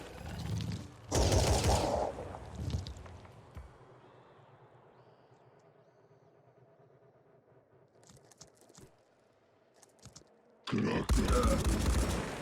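Turret gunfire in the video game Phoenix Point comes as two loud bursts, one at the start and another at the end, with a quieter stretch of low rumble and faint clicks between them.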